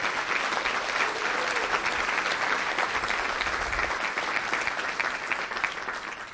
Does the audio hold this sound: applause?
yes